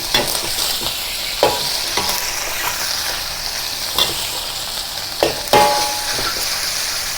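Beef fries in a wok for a Chinese black bean sauce dish, a steady loud sizzle broken by several scraping stirs and clacks of a utensil against the metal.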